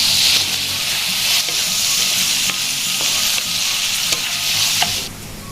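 Steady, loud sizzling of onions frying in a pan, with occasional stirring scrapes breaking through the continuous hiss.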